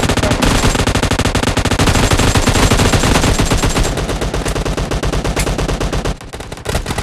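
Rapid automatic gunfire from PUBG Mobile gameplay rattles continuously at close range and high volume, keeping a steady machine-gun rhythm with a brief break near the end and then resuming.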